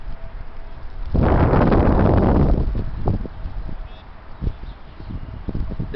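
A sudden heavy gust roars in after about a second and holds loud and broad for over a second before easing into lighter rustling buffets and scattered knocks, close to the microphone.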